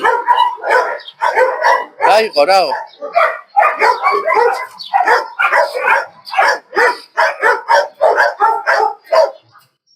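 Many dogs at a Georgian dog shelter bark loudly and continuously in overlapping bursts, with yips and whimpers, close by, while a person speaks briefly among them.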